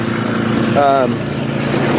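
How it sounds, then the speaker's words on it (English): A gold dry washer at a prospecting camp, driven by a small blower engine, running with a steady, close, buzzing drone while a person speaks over it. "Most of these run with an air compressor or an air blower, like a leaf blower, that pushes air into this box"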